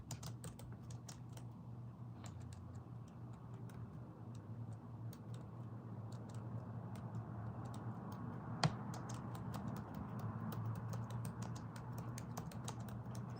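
Computer keyboard typing runs steadily for the whole stretch, with quick light clicks over a constant low hum and one sharper click near the middle; nobody speaks.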